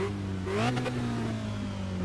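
A Formula Renault race car in iRacing sits at Circuit de Spa with a steady, buzzy engine drone close by, giving one quick blip of revs before settling back to idle.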